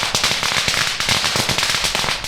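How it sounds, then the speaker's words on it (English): Fourth of July fireworks go off in a dense, loud, continuous barrage of sharp crackling bursts, with no talk over them. "expect some fireworks in the background occasionally"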